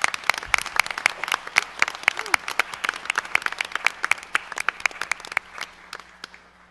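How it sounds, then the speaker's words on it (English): Audience applause at a Tennessee Board of Regents board meeting, a room of people clapping in a dense, steady patter for several seconds that gradually thins out toward the end, with some talking faintly underneath. "Let's give them a round of applause."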